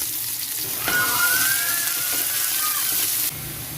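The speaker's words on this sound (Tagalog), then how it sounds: "gigisa na tayo ng ating pantinola. Painita tayo ng mantika dito sa wok natin" Ginger, garlic and onion sautéing in hot oil in a wok for a chicken tinola, a steady close sizzle with a brief scrape partway through, no talk.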